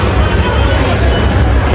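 Dense crowd chatter fills a crowded entrance at the Kala Chashma hotel. The loud, close hubbub of many overlapping voices is continuous throughout.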